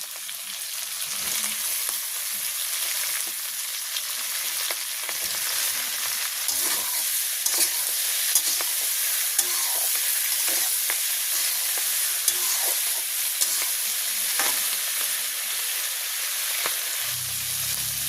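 Eggplant sizzles and fries steadily in a hot pan in a village kitchen, a continuous crackling hiss with occasional pops and stirring scrapes throughout, no talking.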